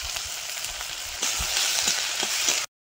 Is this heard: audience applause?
no